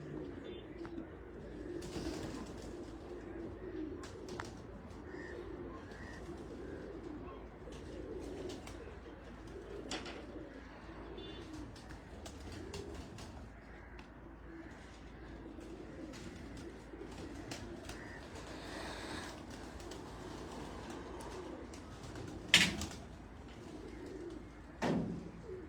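Kajal pigeons coo softly and repeatedly through a long stretch, low and continuous, with people talking faintly in the background and a couple of brief louder knocks near the end.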